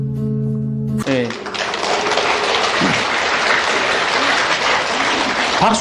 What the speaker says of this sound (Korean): 박수 칠 일이 아니에요.